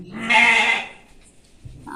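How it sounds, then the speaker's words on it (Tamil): A young goat kid bleats in a loud, wavering cry near the start, then fades into quiet with a faint second call beginning at the end. "ஆட்டுக்குட்டி அங்கிட்டு இங்கிட்டு பாவமாக இருந்துச்சு சுற்றிக்கிட்டு இருக்கு பாருங்கள்"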